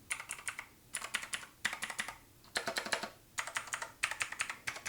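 Typing on a Razer BlackWidow V4 Pro mechanical keyboard fitted with Razer Green tactile switches: close, crisp clicky keystrokes in rapid bursts separated by short pauses.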